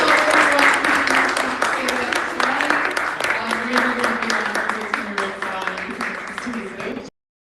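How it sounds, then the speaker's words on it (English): A live launch-event audience claps and cheers in a sustained, dense round of applause that holds steady for several seconds before cutting off abruptly, with voices mixed in under the clapping. "Big round of applause for"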